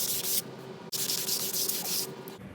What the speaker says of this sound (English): Now switch over to 180 grit, leaving no surface unsanded.